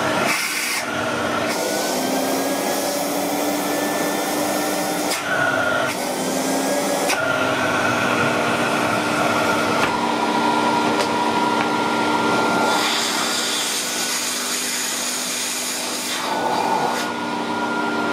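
A 1980 Miele S224 Electronic vacuum cleaner with electronic suction control, starting on its lowest setting: a loud, continuous motor whine and airflow hum that shifts in pitch and strength as it runs, with no talking.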